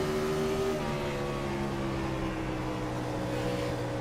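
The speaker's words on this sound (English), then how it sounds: "Feels good to hit the loud pedal on a iRacing race car and it go." A NASCAR race car engine in iRacing drones steadily at high revs, a constant harmonic whine with a slight pitch shift early on, with no talking.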